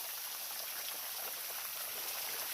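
Water drips and trickles onto a hiking trail on the way to Bishnudwar, a soft, continuous patter of droplets, quiet and close, with no voices.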